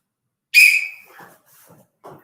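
One short, piercing whistle blast from a martial arts instructor leading an advanced black belt class rings out close and loud, then fades into quiet background voices.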